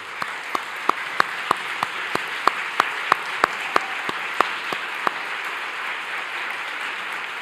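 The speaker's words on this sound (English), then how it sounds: "give you a round of applause" Conference audience at a diabetes technology symposium applauding, a soft wash of clapping under a run of regular, sharp, louder claps that fade out partway through.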